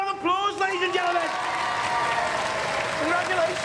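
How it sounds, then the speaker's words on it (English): Studio audience at a robot combat show applauds the competing robot team, a steady wash of clapping with cheers and whoops rising over it, sustained and fairly loud throughout. "Give them a round of applause, ladies and gentlemen."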